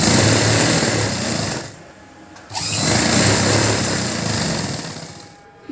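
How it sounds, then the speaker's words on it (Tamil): Sewing machine stitching a half-inch double-folded hem on a lined churidar, loud and close, a sustained whirring run, a short stop with a click, then another long run that tapers off. "வெளிப்பக்கம் வச்சு நம்ம இந்த மாதிரி திருப்பி தைக்க போகிறோம்."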